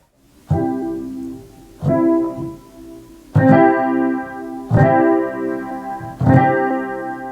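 Heavy, clumsy piano chords played with poor technique and bad posture, struck about five times with uneven pauses, each attack loud and ringing out before the next.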